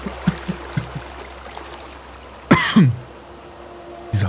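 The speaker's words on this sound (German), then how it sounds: "Dieser Husten macht mich teilweise echt fertig nebenbei." A person coughs and clears their throat in a short harsh burst of two rough coughs, close and loud, followed later by a brief further cough over quiet background.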